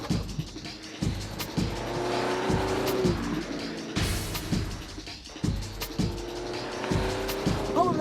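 A 2001 Ginetta G20 sports car with a front-mounted Ford engine rumbles and revs through repeated throttle bursts, and its tires squeal and skid. The sound is steady and fairly close, with no talking.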